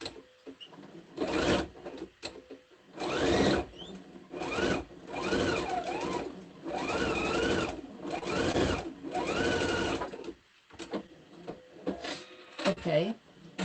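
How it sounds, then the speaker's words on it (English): Sewing machine stitching down the side of a small fabric tab for a quilt-as-you-go hot pad, running in several short bursts separated by brief pauses, with a person talking over the machine. "all I'm going to do is sew it down the side"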